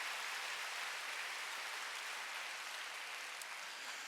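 Congregation at a Wednesday church service clapping hard together, a steady dense wash of applause held at even loudness for several seconds with no talking.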